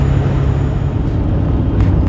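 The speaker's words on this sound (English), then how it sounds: "I hit the remote start on the truck" A truck engine idles after a remote start on a chilly morning. The low, steady rumble is loud and close, with no one speaking.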